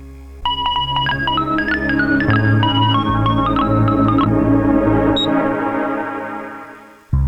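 A mobile phone ringtone plays loudly and close, a repeating melodic electronic tune that rings on unanswered for several seconds before cutting off, with no talking over it.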